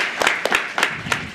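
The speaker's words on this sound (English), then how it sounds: "Round of applause for the presentation." Scattered hand claps from a small audience after a conference presentation, a few distinct, uneven claps rather than full sustained applause.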